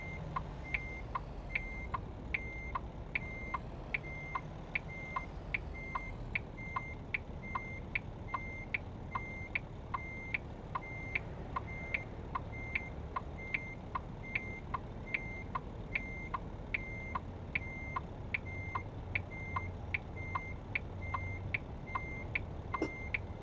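Reversing beeps from a Lonestar truck backing up a trailer in American Truck Simulator, steady evenly spaced beeps over a low idling engine rumble, with no talking.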